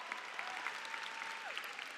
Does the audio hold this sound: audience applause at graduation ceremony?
yes